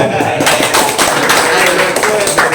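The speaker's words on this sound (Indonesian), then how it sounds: "Silakan duduk lagi, tepuk tangan" Audience applause at a cultural event as a participant returns to their seat, loud close clapping with irregular hand strikes continuing throughout.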